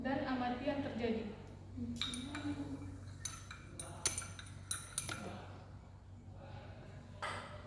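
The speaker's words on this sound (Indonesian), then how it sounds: "Lalu kita campurkan minyak ke dalam air tersebut. Kemudian kita aduk" Oil and water are stirred in a glass beaker during a chemistry practical, giving light clinks of glass with several sharp taps spread out over the clip. Speech is heard at the start.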